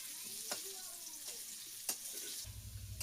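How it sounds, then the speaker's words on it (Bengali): Potatoes frying in a pan for a Bengali puisag and prawn dish, a soft close sizzle broken by a few sharp stirring clicks, then a low hum near the end. "আলুগুলো লাল লাল করে ভাজা হয়ে গেছে,"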